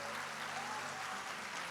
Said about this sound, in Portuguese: Se é para aplaudir, aplauda o nome dele.